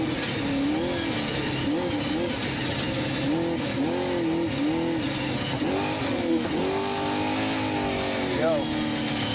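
Off-road race vehicle engines at the SCORE Baja 400 rev and wail through repeated throttle swells, loud and close, with someone talking over them.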